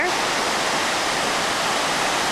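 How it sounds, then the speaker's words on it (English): Iguazu Falls in Argentina roars as a dense, constant rush of falling water, loud and unbroken throughout. "Got some other nice little waterfalls over here."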